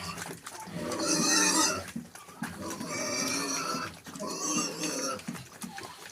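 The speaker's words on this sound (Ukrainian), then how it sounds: "Ну і ось наші поросятка." Several piglets, one boar and two sows, grunting and squealing in short, busy bursts, close by, with a few brief pauses between the noisy stretches.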